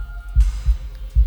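A heartbeat from a video game thumps in deep, heavy pulses, three beats at a slow, even pace over a low hum, close and prominent with no talking.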